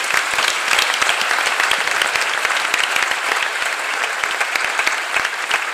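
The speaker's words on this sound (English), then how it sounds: "Clap your hands and praise the Lord." A church convention congregation claps hands in praise, a dense, steady wash of applause that fills the whole stretch at full loudness with no speech over it.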